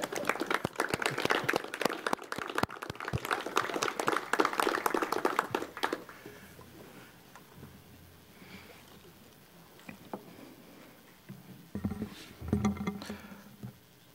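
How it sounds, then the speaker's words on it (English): Audience at a waste authority board meeting claps loudly for about six seconds, a dense patter of many hands that then fades into quiet room noise, with a brief second burst of clapping near the end. "stand up and give her a round of applause for lending him all these years to us"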